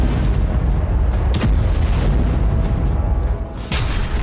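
Explosions from Russian missile and bomb strikes by Tu-95 bombers on Ukrainian cities, a dense continuous rumble of loud booms with several sharper blasts, no voices.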